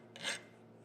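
A hand file scrapes across thin hardened steel in a forge shop, giving one short, faint rasping stroke that swells and fades within a fraction of a second.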